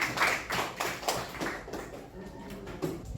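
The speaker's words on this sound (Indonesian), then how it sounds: "kita berikan aplaus semuanya" Classroom audience applauding at the close of a biology lesson, a short burst of scattered, fairly close hand claps with irregular rhythm, fading slightly toward the end.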